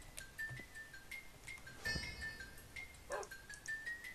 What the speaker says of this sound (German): So ein blöder Hund.